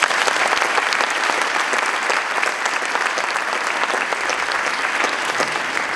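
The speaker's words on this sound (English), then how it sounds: "why don't we give a round of applause to all of those serving in elected office" A large audience at an official investiture ceremony applauds elected officials, producing dense, loud, sustained clapping that fills the space evenly throughout.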